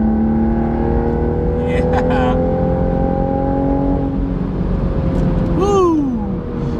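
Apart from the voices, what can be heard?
car exhaust heard from inside with windows up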